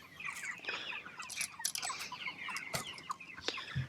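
Chickens cluck and squawk inside a farm coop, a busy overlapping chorus of close calls, with occasional rattles and clanks mixed in.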